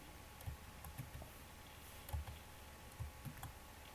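Keys tapped on a computer keyboard while entering values in circuit software during a MOSFET lecture: a handful of separate, light clicks spaced irregularly over a soft background hiss, fairly faint.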